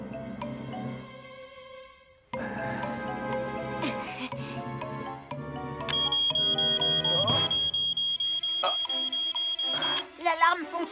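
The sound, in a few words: smoke alarm beeping in cartoon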